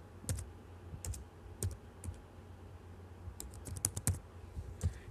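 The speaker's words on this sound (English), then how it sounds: "and then you start typing it" Keys on a computer keyboard are typed in irregular clusters of close, crisp clicks with short pauses between bursts, quiet against a faint room hum and no talking.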